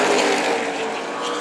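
Super late model race cars roar around Tucson Speedway during a main event, a dense, loud engine drone from a pack running three wide, steady and sustained without a break.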